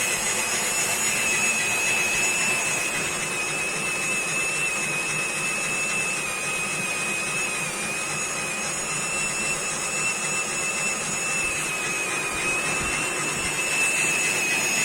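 A homemade pollen winnowing fan for beekeeping, driven by a cordless screwdriver, whirs steadily at medium speed with a constant motor whine and airy rush, close and continuous with no talk.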